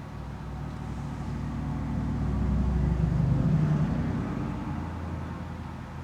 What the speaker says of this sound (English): I have a loud vehicle about to go by.